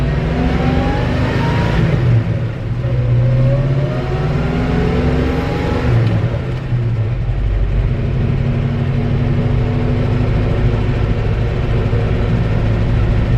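A 1963 Chevy C30 truck engine pulls away in first gear, a loud, steady mid-range drone whose pitch rises as it accelerates, then holds at a continuous rumble close by with no talk.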